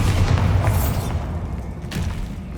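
A Bombarda spell explosion in the Hogwarts Legacy video game, a loud deep boom with a rumbling blast that swells and tails off, followed by lingering low rumble and debris noise.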